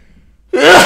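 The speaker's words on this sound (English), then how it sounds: "I'm going to sneeze here." A single sharp sneeze bursts out suddenly after near silence, loud and close, from a person suffering seasonal allergies.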